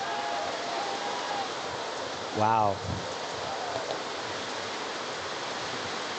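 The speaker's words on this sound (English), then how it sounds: "raining a little harder right now." Steady rain falling harder over an outdoor paintball field during a championship event, a constant hiss throughout, with a brief exclamation from a voice partway through.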